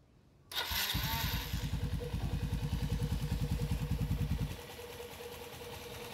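A motorcycle engine with a cut-down clutch bell fires up abruptly and runs with a steady rapid chug, then drops to a quieter idle near the end.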